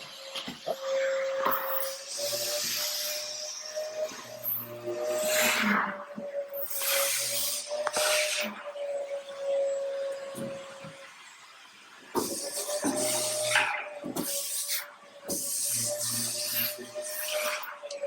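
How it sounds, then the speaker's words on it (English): A floor scrubbing machine hums steadily with a constant tone while bursts of hissing, scrubbing noise come and go, pausing briefly before resuming. "Right now, they're still scrubbing"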